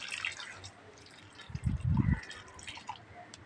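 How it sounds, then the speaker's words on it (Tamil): Water poured from above onto an eggplant seedling in a pot, a brief soft splashing gush in the middle of the moment, close by and alone against quiet garden background. "இப்போ நம்ம தண்ணி ஊற்றிக்கலாம்."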